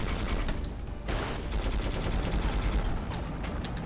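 Heavy gunfire from an armored vehicle's big gun in the war video game Conflict: Desert Storm 2, a dense, loud, continuous barrage of blasts and rattling shots with a brief dip near the one-second mark.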